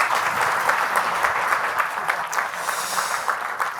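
A conference audience at Refashion Day 2023 claps steadily in a sustained round of applause, a dense patter of many hands in a hall, moderately loud and continuous throughout.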